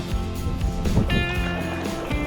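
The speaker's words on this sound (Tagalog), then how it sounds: "Sagwan na tayo patabi." Oars or paddles splash and knock as a fishing boat with a broken engine is paddled toward shore at sea, with water sloshing close by and a faint high whine in the background.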